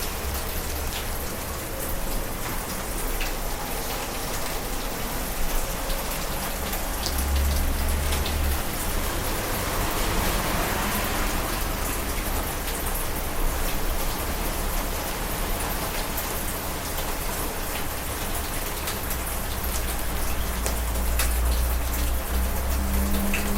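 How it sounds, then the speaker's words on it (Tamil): Steady rain falls on a mountain summit, a dense, even hiss of drops that runs without a break for the whole stretch, close and moderately loud, with no voices. "இப்போ நான் படுத்துன்னு இருக்கிற மலை உச்சியில் மழை ஸ்டார்ட் ஆகிடுச்சு"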